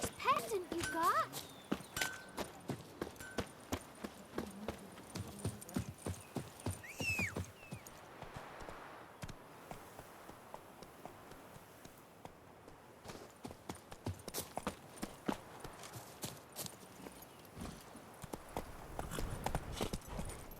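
Roach the horse's hooves clip-clop at a walk in The Witcher 3, a steady run of distinct hoof beats, close and clear, with occasional voices speaking over the steps.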